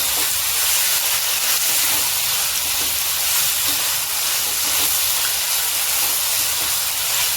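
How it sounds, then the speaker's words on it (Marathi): Potatoes fry in oil for an aloo matar curry, giving a continuous, even sizzling hiss that holds steady throughout with no talk. "बटाटा पण चांगला परतून घ्यायचा बटाटा चांगला तेलात परतला की मस्त पीठ लागतो भाजीमध्ये"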